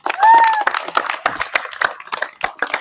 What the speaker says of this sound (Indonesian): Oke, kita beri tepuk tangan untuk temannya.